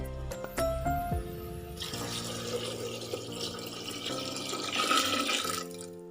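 Water poured from a glass into a pot of rice for dum vangibath, a close splashing pour that starts after a few clinks and runs steadily for several seconds, swelling briefly near the end.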